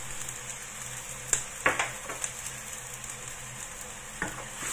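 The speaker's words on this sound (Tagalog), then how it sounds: "haluin lang muna natin. I-mix lang natin bago natin ilagay ang munggo" Sautéed seasonings with salt, chicken powder and pepper stirred in a hot pan for ginisang mongo, a steady sizzle and hiss beneath a few clinks and scrapes of the spoon, close by with no talking.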